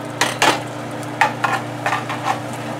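Cumin seeds and asafoetida sizzle in hot oil in a pan while a spoon stirs, giving a steady low frying hiss broken by several sharp scraping and clinking strokes, close by and with no voices.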